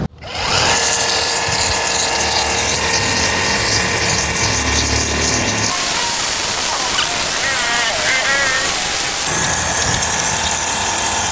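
A Hajime HJ-QT4225C cordless brushless jet cleaner sprays water in a loud, steady high-pressure hiss with a motor whine, running continuously and shifting in tone partway through as the setting changes.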